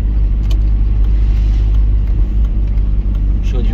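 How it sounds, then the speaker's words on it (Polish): Car engine rumbling in a parking lot, a steady low drone with faint clicks and some background noise, fairly close. "i patrz tu jaki samochód"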